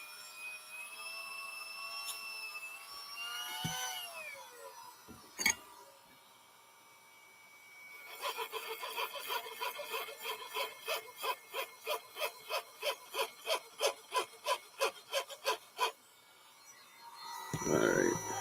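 Rhythmic back-and-forth rasping of sanding a metal lock pin, about twenty evenly spaced strokes, close up, following a few clicks and scrapes.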